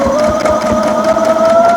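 A sewing machine hums steadily up close with an even mechanical whir and a faint rhythmic pulse, running continuously while a fat quarter quilt top is sewn. No one talks.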